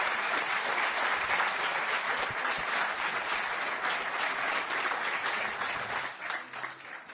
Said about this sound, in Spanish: Os pido un aplauso para Jesús Callejo